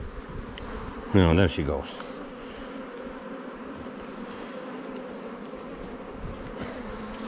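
Honeybees hum steadily at close range as a queen is released into a hive, a continuous insect drone with a brief louder burst early on and a short spoken phrase over it.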